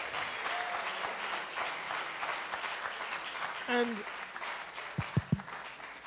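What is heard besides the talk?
audience clapping for the presenters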